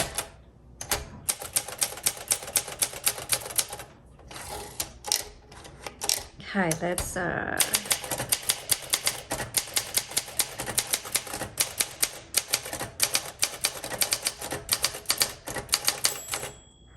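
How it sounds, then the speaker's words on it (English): A 1962 Olympia SM5 manual typewriter typing in rapid, close, crisp keystroke clacks that run almost continuously, broken by a short pause and a brief spoken aside partway through. "The typing, the keystroke is so nice."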